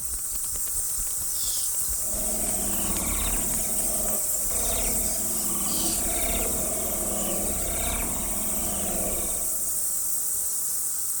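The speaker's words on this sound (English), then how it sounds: "En masse, this creates a sound known as the feeding buzz" Bats' feeding buzz: a rapid, continuous chatter of tiny clicks and squeaks blends into a buzzing swarm over a steady high hiss, lasting throughout.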